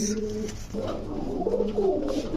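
Army pigeons cooing up close, a continuous low throaty burble of overlapping calls.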